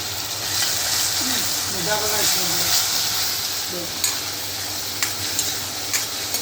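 Crushed onion fries in a pan with a steady hissing sizzle and occasional stirring taps. A voice is briefly heard partway through, under the frying.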